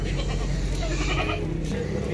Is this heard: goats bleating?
yes